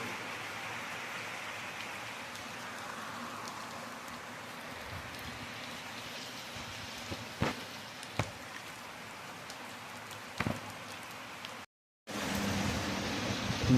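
Heavy rain falls at night as a steady, even hiss with a few sharp knocks and taps, briefly cutting out near the end before the wash of rain returns louder.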